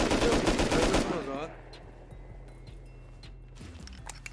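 Gunfire in the survival game Rust: a loud, rapid burst of automatic shots up front, then quieter scattered pops and footsteps as the firing stops, with a voice talking.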